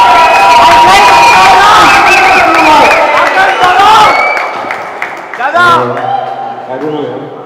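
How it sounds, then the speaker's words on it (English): Loud crowd cheering, whooping and applause at a squash tournament award function, dense and sustained, fading toward the end as voices take over. "A really big round of applause for Akash, who's seen this whole thing through."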